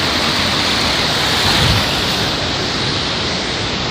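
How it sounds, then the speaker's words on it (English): A fast-flowing river rushes near a waterfall in Mexico, giving a loud, steady broadband roar of water that continues unbroken. "So this is the river."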